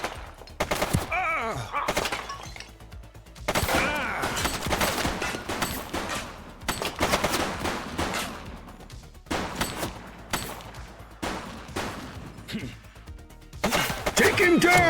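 Sustained gunfire from an armed suspect in The Precinct police game, loud rapid shots and volleys nearly continuous with brief pauses, mixed with shouting voices and impacts.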